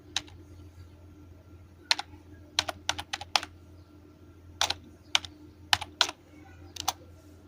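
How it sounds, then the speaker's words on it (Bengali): Computer keyboard keys clicking in short bursts as a web address is typed, quick irregular taps separated by pauses, close and clear over a quiet room hum. "এখানে আমি লিখব freelancer.com।"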